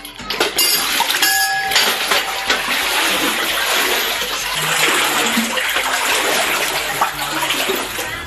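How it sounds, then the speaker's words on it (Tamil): Heavy rainwater floods through village streets and into homes, a steady, loud rushing and splashing wash that runs unbroken throughout with faint clinks mixed in. "தெருக்களில் தண்ணீர் சூழ்ந்து வீடுகளுக்குள் புகுந்தது"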